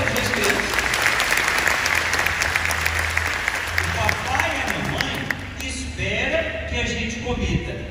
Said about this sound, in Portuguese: O papai e a mamãe, ele pode aplaudir as crianças.